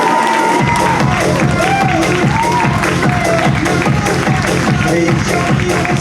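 An audience at a talk event welcomes a guest with loud, dense applause and cheering, clapping and shouts filling the room continuously.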